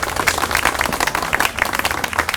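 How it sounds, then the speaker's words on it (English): Round of applause from a gathered group during a downtown botanical makeover tour, close and brisk clapping from a modest crowd, lively and uneven for the full stretch. "let's give her a round of applause"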